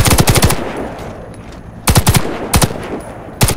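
Assault rifle fire in Warface, loud and close: a rapid burst of about six shots, a pause, then a few shorter bursts and single shots.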